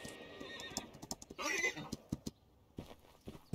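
A horse neighs in the cavalry battle game Holdfast: Nation at War, a loud whinny rising mid-clip amid hoof clip-clops, clattering battle noise and a voice.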